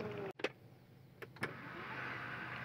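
Panoramic sunroof of a new car opening: a sharp clunk, then a couple of mechanical clicks followed by a steady electric motor hum and rushing air, close inside the cabin, with no talking.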